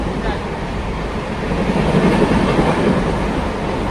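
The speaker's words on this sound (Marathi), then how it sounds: "वरतून ते हे जात ट्रेन जाते" A train passes overhead near a forest, a loud, continuous rumble with a clattering clickety-clack of wheels that fills the whole stretch close by.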